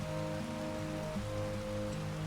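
Rain falls on a barley field in a farming video game, an unbroken soft hiss layered over steady droning tones, continuous and without speech.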